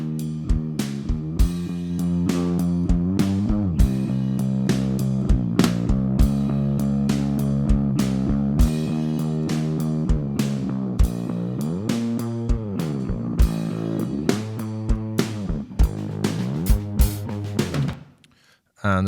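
Bass guitar mid channel driven through a Devil Lock Deluxe distortion pedal plays a steady, gritty riff with repeated sharp note attacks, loud and continuous for most of the stretch before stopping near the end.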